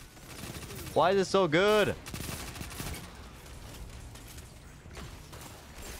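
Rapid SMG fire from a Multimach in Destiny 2 crackles in dense bursts across the clip. A voice briefly speaks over the shooting, and the gunfire continues under the talk.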